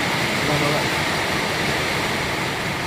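Dense, continuous roaring hiss of heavy rain with gusting storm wind in a village, steady and loud throughout.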